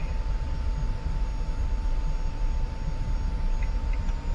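An F-86F jet in the DCS combat flight simulator spooling up for a rolling takeoff, with a steady loud engine roar and a constant whine that hold for the whole stretch, no talking.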